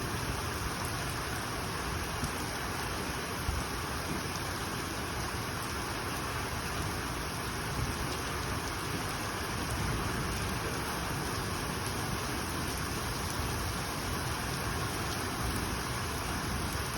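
Heavy rain pours down steadily during a violent storm, a dense unbroken hiss that holds at the same level throughout with no voices over it.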